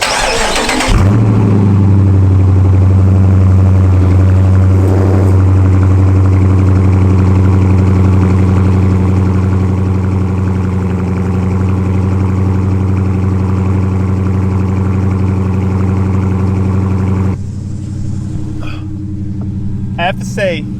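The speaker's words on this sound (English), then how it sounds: "let's do a cold start" A Jeep Grand Cherokee WK with the 5.7 V8 cold-starts with a loud crank and flare, then settles into a steady, deep idle that runs on close by before the note drops near the end.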